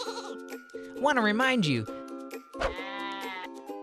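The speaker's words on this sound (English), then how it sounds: "and these adorable sheep." Sheep bleat twice in long, wavering cries, one in the middle and another near the end, fairly close, while a voice talks over part of it.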